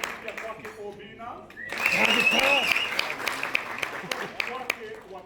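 An audience at a Kenyan panel discussion on a cyber crimes bill breaks into sustained applause, rising after a moment of speech and continuing as a broad, dense patter with voices over it.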